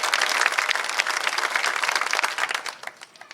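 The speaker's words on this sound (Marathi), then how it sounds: "त्यांच्यासाठी एकदा जोरदार टाळ्या" A large crowd seated at a Dhangar community gathering bursts into loud, sustained applause, many hands clapping densely before the clapping thins and fades toward the end.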